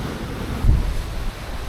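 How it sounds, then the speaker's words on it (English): Strong 30-knot gusts roar with ocean surf on a Lagoon 51 catamaran crossing the Atlantic, a steady wind-buffeted rush swelling briefly partway through, close and loud, with no talk. "Now I can hear the gust coming."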